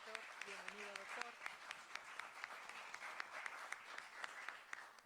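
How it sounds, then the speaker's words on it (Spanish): Faint applause from an audience at a university congress honoring a former faculty director, scattered claps running steadily for about five seconds, with a voice speaking over the start. "Un aplauso también, por favor, a nuestro exdirector."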